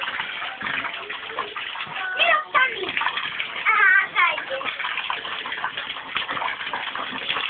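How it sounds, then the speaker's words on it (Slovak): Water gushes from a tap into a bathtub, a steady loud splashing roar throughout, while a child and an adult talk over it. "Aha, voda šplachoce, vidíš?"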